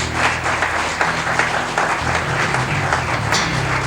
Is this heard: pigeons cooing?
no